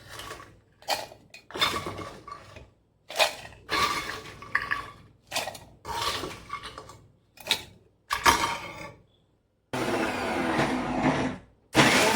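A kitchen mixer grinder pulses through onions for sardine chutney in a series of short, loud whirring bursts separated by pauses, ending in one longer continuous run.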